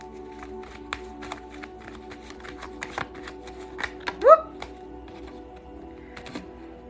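Tarot cards shuffled and drawn during a reading, a steady run of soft riffling clicks and flicks over about seven seconds, fairly close, with a brief louder swell midway.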